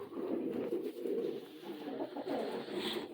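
Staropolski pigeons cooing in a pigeon loft, a steady murmur of soft overlapping coos running throughout, close and moderately loud, with no talk.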